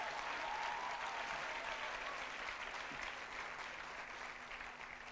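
An awards-ceremony audience gives a sustained round of applause for the provincial education MEC, Panyaza Lesufi, a dense, steady wash of many hands clapping at a distance, fairly soft and continuous throughout.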